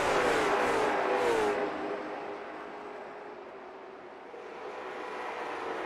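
Race cars at a short track series race roar loudly past, engines revving hard and then easing into a steady, continuous drone of engine noise close by, with no talk audible over it.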